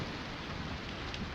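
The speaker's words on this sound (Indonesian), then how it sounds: "ketika ada hujan deras, wah hujan deras, halilintarnya menyambar-nyambar di langit" Heavy rain pours steadily with a deep thunder rumble underneath during a thunderstorm, a dense, constant wash of noise with no voices.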